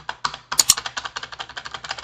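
Rapid, crisp key presses on a Perixx PERIDUO-714 wireless keyboard, nearly twenty clicks in a quick, even rhythm heard up close, with no talking.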